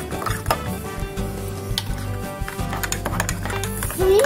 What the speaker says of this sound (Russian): Размешиваем.